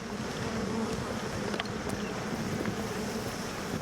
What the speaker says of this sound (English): The bees are buzzing.